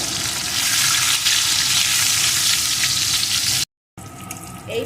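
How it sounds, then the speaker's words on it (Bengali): Nigella seeds and slit green chillies frying in hot oil, a loud continuous sizzle and crackle up close, cut by a brief silence near the end before the frying resumes more quietly. "এখন এই তেলের ভিতরে দিয়ে দেব কালো জিরে সাথে দিয়ে দেব কয়েকটা চেরা কাঁচা লঙ্কা এখন এগুলোকে একটু ভেজে নেব"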